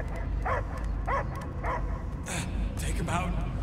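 Several short dog barks in a quick sequence, mid-distance, in the video game Guardians of the Galaxy, set against a steady background hum with music-like ambience.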